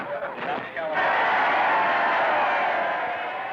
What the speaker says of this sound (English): As Republicans on the floor cheer their candidate